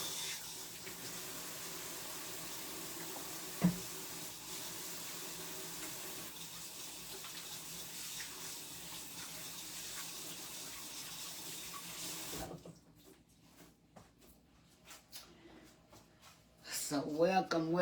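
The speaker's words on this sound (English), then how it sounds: "Let me wash my hands." Tap water runs steadily into a kitchen sink while hands are washed before cooking, a continuous soft hiss for most of the span with one brief clunk. The flow then cuts off, and a voice comes in at the end.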